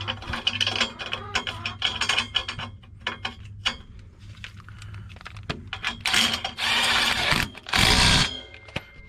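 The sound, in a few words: ratchet tightening hitch basket bolt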